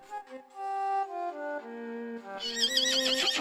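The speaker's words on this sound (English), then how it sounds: "Taking time to ride my favorite horse, Forrest." Forrest the horse lets out a clear, wavering whinny that climbs and falls in pitch, then breaks into a shrill, quavering finish, close and loud with no talk over it.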